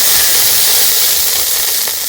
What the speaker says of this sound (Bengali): অল্প একটু জল ছিটিয়ে টেম্পারেচারটা কমে যাবে।